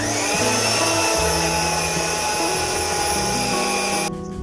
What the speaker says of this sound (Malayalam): എനിക്ക് ഇപ്പോൾ സമയമില്ലാത്തതുകൊണ്ടാണ് ഞാൻ ബ്ലെൻഡർ യൂസ് ചെയ്യണത്.